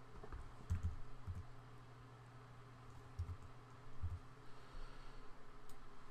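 Someone types on a computer keyboard, a few quiet, scattered key clicks set against a faint room hiss, with no talking.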